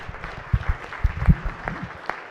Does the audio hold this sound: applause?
yes